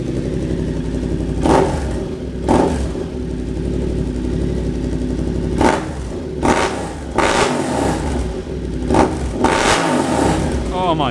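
A 2022 Yamaha R7 motorcycle with an SC Project titanium exhaust revs in repeated sharp bursts over a steady, loud engine rumble, each blip swelling and falling back to the throaty idle.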